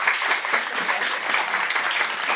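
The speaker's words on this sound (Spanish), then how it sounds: "Un fuerte aplauso, por favor." Steady, dense applause from an audience at an academic humanities conference panel in Mexico, continuous and fairly loud throughout with faint voices mixed in.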